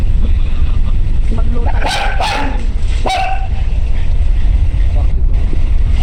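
A dog barks a few times in quick bursts over constant loud background noise.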